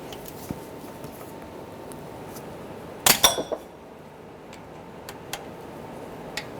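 A bolt comes loose on a 2003-2008 Honda Pilot engine during crankshaft position sensor replacement, giving a sharp metallic clink and a few quick rattling taps midway through an otherwise quiet workshop background.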